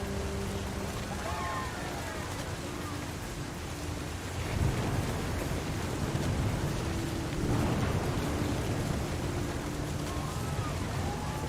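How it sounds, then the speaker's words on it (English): A thunderstorm in the video game What Remains of Edith Finch: steady rain hisses throughout, and two deep thunder rumbles swell partway through. A faint voice can be heard beneath the storm. "The thunder sounded much too close and full of angry power."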